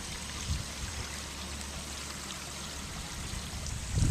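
Water flowing steadily through a newly built pondless waterfall trimmed with stone beside a paver patio, a constant close rushing trickle with no talk.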